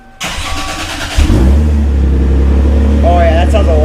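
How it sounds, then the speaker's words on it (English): A Lexus SC300 engine cranks and catches with a sharp burst, then settles into a deep, rumbling idle through a throaty custom-made exhaust; a voice talks briefly near the end. "let's fire it up just in here just to hear what it sounds like"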